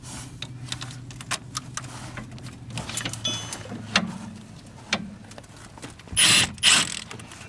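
Ratchet with a 15mm socket driving suspension bolts on a Jeep Grand Cherokee, heard as irregular bursts of close, sharp clicking with brief pauses between strokes, and two louder rattling bursts near the end.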